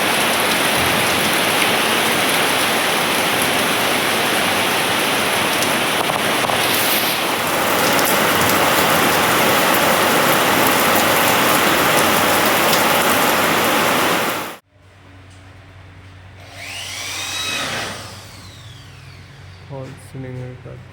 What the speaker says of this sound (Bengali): এখন বৃষ্টি দেখছি, অঝোর ধারে বৃষ্টি পড়ছে